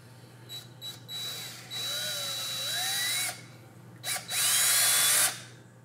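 Power drill fitted with a 7/32 bit boring into an upright piano's hammer butt to fit a new shank: a few short taps, then two sustained whining bursts whose pitch rises and falls, loud and close, with no talk.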